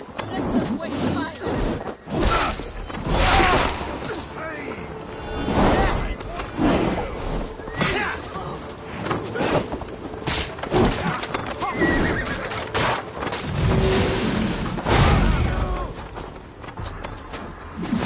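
Horses neighing and whinnying in Assassin's Creed Valhalla, with hoof clip-clop and busy game action throughout, and speech mixed in over the din.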